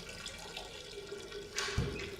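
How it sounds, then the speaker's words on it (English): Urine hitting toilet water in a movie scene, a steady faint trickle and splash that swells briefly into a fuller gush near the end, with no talk. "Now just reflect and listen to my urine hit the water."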